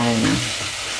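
Banana blossom is sautéed with garlic in a pan, a brief, loud, dense sizzle with a hint of stirring that eases slightly toward the end, with no voices.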